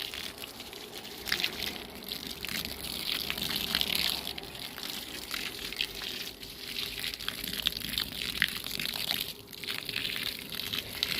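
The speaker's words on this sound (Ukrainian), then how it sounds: "Тепер залиємо водичкою." Water pours from a container onto loose garden soil around freshly transplanted red currant bushes, a steady close splashing and gurgling trickle that runs continuously outdoors.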